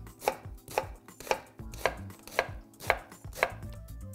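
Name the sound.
knife slicing an onion on a cutting board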